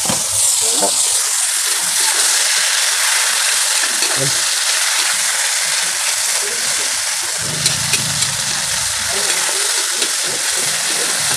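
Garlic and onion frying in cooking oil in a pan for pakbet, a loud, steady sizzle running throughout with occasional stirring, and a voice talking faintly at moments.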